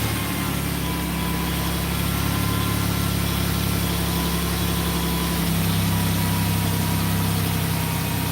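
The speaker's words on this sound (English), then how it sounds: "we started it up with the exhaust pipes off just for jollies." A Ford Transit van engine idles with its exhaust pipes removed, giving a loud, steady, rough mechanical drone that runs continuously throughout without any talk.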